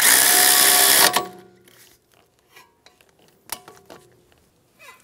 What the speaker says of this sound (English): Snug the brake hose bracket bolt down.